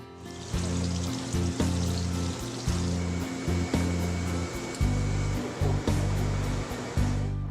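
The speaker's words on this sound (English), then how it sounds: "I'm going to feed the plate into the machine and hit the start button." A flexographic printing plate processor machine runs with a steady whirring hum, broken by regular short rhythmic clunks and pulses, close and alone without voices.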